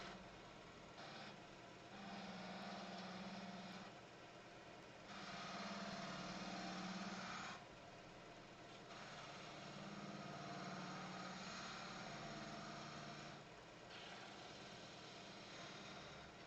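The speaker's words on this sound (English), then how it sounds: "Just going with a 1/4 inch spindle gouge that's been ground to quite a point" A wood lathe spinning a cherry workpiece while a 1/4 inch spindle gouge cuts it, giving a faint, steady whirring hum broken by repeated short bursts of scraping as the tool engages and lifts.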